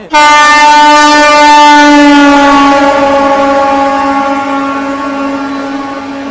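Gatimaan Express, the 12050 Indian Railways train arriving at platform 4 of Hazrat Nizamuddin, sounds a loud sustained horn close by, one long steady blast that slowly fades.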